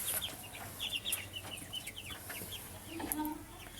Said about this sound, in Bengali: এগুলো হচ্ছে মিশরীয় ফার্মি মুরগি। দেখেন ভিতরের কন্ডিশন, দোতলা মুরগি ফার্ম।